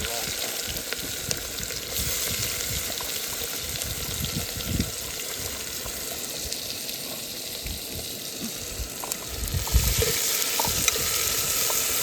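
Chopped peas, onion, tomato, chilies, potato and cauliflower go into a khichdi pot cooking outdoors in the mountains, heard as a continuous sizzling hiss with intermittent stirring scrapes and soft thumps, faint voices in the background.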